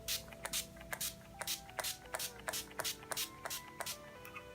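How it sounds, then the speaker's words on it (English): Several quick bursts of Urban Decay All Nighter setting spray misted onto a face during a makeup routine, close and crisp, in an uneven rhythm of short hissing puffs with no talking. "I'm just gonna set my face with my Urban Decay setting"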